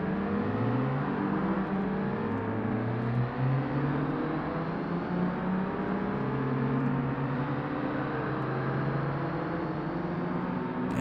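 A car engine in Forza Motorsport during a D-class championship race, held in a strained, high-revving drone whose pitch rises and dips in smooth sweeps, loud and continuous with no talking.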